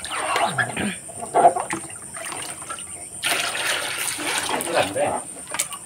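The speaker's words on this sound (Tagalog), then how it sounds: "Lagyan mo pa ng tubig." Water splashes and trickles as it is poured into a container to wash native root crops in a rural home, the uneven pouring sounds mixed with people talking nearby.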